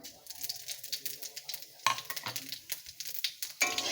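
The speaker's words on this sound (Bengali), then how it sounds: "5 ফোড়নটাও একটু সুন্দর গন্ধ বার হওয়া পর্যন্ত একটু ভেজে নেব" Panch phoron spices fry in hot oil in a pan, giving a close, crackling sizzle with scattered spitting pops and a few sharper stirring scrapes against the metal.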